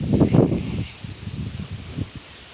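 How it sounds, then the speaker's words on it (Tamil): Strong wind rustling through flowering plants in a small home garden in Kiliyur, a loud gusty burst at first that eases into softer, uneven rustling. "வாடை காற்று பயங்கரமாக அடிக்குது"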